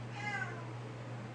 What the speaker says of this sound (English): The cat's in my barn.